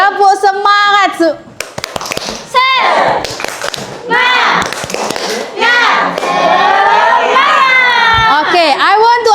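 A classroom of children doing a rhythmic spirit clap, with sharp hand claps punctuating loud, chanting young voices and a teacher speaking over them.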